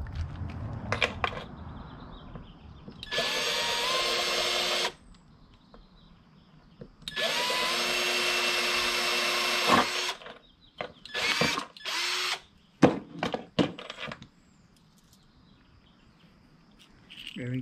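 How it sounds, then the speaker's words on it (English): A power drill whirs in two sustained bursts of a couple of seconds each, drilling a bolt hole in a homemade ghost shrimp pump, followed by several short on-off pulses, with quiet handling noise between. "So it's gonna drill a hole right there."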